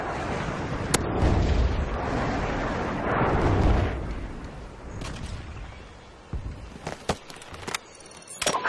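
Harrier airstrike in Call of Duty on the Wasteland map: a long run of loud, rumbling explosions and bursts, followed by several sharp, separate blasts and pops toward the end.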